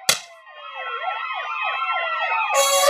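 A fire engine siren wails in a rapid, repeating rise and fall, loud and steady, with a sharp burst of noise at the start and again near the end.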